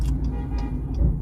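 Cars passing behind someone in a street, heard as a low, steady traffic rumble with a few faint ticking clicks, fairly close and without speech.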